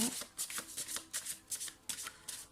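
Playing cards are shuffled in quick, crisp riffling bursts, about eight rapid flutters close up for a card reading, with no speech.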